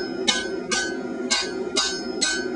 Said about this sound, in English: Working with the 1 kilo hammer, which gives me a slightly mushier stroke